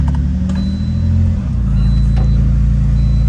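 A car with its hood removed is driven into a shipping container, its engine idling in a low, steady rumble that grows louder and fuller midway as it moves in. Faint clanks can be heard over it.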